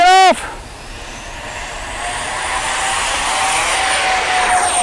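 An ARROWS Hobby MiG-29 Fulcrum 64mm EDF radio-controlled jet takes off, its ducted fan building from a brief burst into a steady, loud, rising whine with a high-pitched tone, no voices heard.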